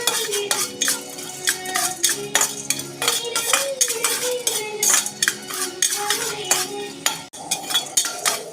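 Cumin, garlic and black pepper dry-roasting in a pan, stirred with a metal utensil: steady clinks and scrapes against the pan at a busy, uneven pace over background music.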